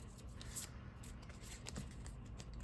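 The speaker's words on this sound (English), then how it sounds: "Get the shuffle popping here. Mix these cards up." A deck of trading cards is shuffled by hand, giving soft, quick riffling and sliding card noises at a faint level.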